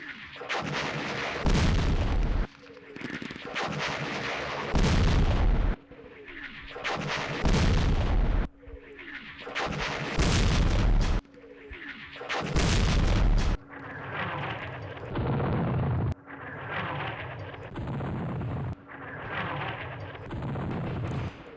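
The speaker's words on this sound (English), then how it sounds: "The artillery is just not effective, which is terrible." Artillery in the wartime strategy game Campaign Series Rising Sun fires as a series of about eight heavy, loud booms, each followed by a rolling rumble, repeating every couple of seconds with no talk over them.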